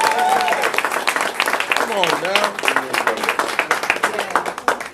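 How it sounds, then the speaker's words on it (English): Audience applause at a fireside chat with a county judge candidate, a dense wash of clapping running under continuous talk and a voice over it. "I want to give her a round of applause."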